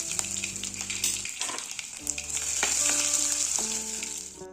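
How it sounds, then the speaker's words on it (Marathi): Cumin, mustard seeds, whole spices and ginger-garlic paste hit hot oil for paneer tikka masala, a bright steady sizzle that swells as the paste goes in, with a few utensil taps, close and without talk. "जिरे मोहरी टाकू खडे मसाले अद्रक लसूण पेस्ट"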